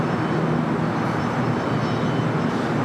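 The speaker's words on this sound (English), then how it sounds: "that Delta A350 heading to Atlanta" A Delta Airbus A350 jet airliner at LAX airport gives a loud, steady, unbroken engine roar that fills the whole stretch without pause.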